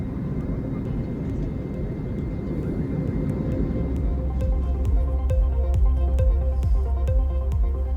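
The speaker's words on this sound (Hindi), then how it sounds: "एयर टर्बुलेंस में ये विमान फंस गया था" A passenger airplane flying through cloud in air turbulence gives a loud, steady cabin drone, with rattling knocks building through the second half.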